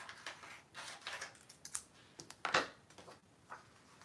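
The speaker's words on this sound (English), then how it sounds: "I'm gonna trim this white part off right here" A blade trims a white edge off a book page while making paper envelopes. Light crackling paper sounds and sharp snips come close together, with one louder cut near the middle.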